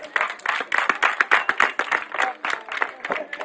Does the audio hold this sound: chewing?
no